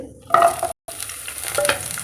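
Shallots crackle and sizzle steadily in oil as they are stirred in a pan, with a brief silent gap partway through.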